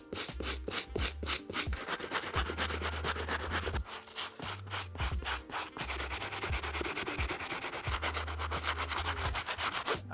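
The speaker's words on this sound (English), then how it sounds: "hop over to this stiff bristle brush, tackle this outsole" Stiff bristle brush scrubbing the rubber outsole of an Asics shoe, rapid rhythmic back-and-forth rasping strokes, close and continuous with brief pauses and no speech.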